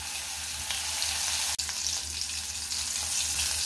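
Cumin seeds, fenugreek seeds, asafoetida and chopped green chillies fry in hot oil for a pumpkin dish, giving a loud, even, continuous sizzle with one brief knock partway through.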